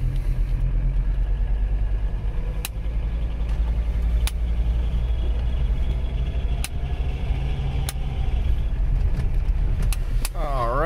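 1985 Mercedes 300CD coupe, an old car in poor running shape, driving at night with a steady low engine drone and road rumble heard from inside, plus a few sharp ticks, no talk.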